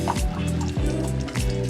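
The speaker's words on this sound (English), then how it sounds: "let me show you what happens when you run the water really slow" Water running slowly from a Kangen water ionizer machine, a steady liquid trickle and fill with repeated gurgling, close and continuous with no talking.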